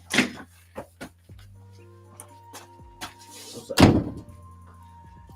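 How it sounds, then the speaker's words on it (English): An indoor door swings shut with one solid thunk in an otherwise quiet room, preceded by a few light taps and clicks. "Let me close this door."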